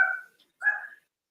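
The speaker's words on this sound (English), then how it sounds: "My dogs are going crazy again." Dogs bark twice indoors, two short, sharp yelps separated by a brief silence, moderately loud and nearby.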